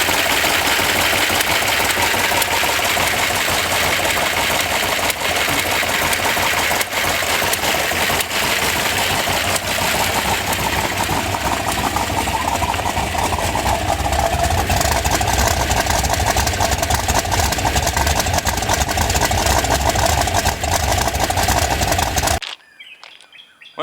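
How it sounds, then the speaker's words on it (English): Chevrolet C10 pickup engine running steadily at idle for over twenty seconds, a loud continuous rumble with a faint chirping squeal, cutting off abruptly near the end. "Well, she ran and idled pretty good."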